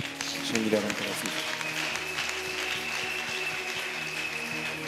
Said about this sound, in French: Acclame pour le Saint-Esprit.